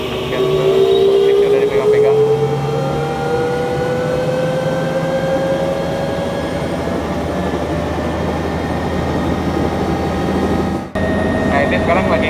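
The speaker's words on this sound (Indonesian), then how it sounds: "Nah ini sekarang lagi ngecek-ngecek flight control dan langsung take off" A helicopter takes off, its engine whining loudly with rising turbine tones and a heavy rotor rumble, steady throughout, with a brief dropout near the end.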